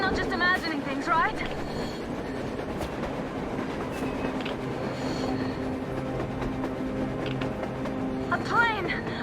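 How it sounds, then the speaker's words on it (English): Train rolling along in Metro Exodus, a steady rumbling rail clatter with faint wheel squeal running throughout, while characters talk over it. "A train! A damn train on the surface!"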